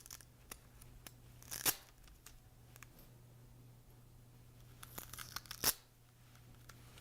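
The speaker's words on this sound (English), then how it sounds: "Remove the Velcro tape." Velcro tape is pulled off a data logger unit in two sharp ripping bursts several seconds apart, with faint clicks and handling noise between them over a low steady hum.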